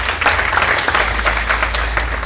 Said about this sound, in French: applaudissons très fort pour lui, les copines